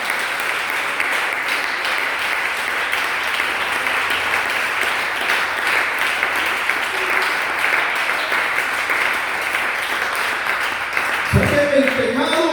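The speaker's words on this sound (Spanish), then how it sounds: "Usted quisiera darle un aplauso a Él en esta mañana." A church congregation claps together during a Spanish-language sermon: a loud, continuous wash of many hands filling the room, steady throughout, with a voice breaking in near the end.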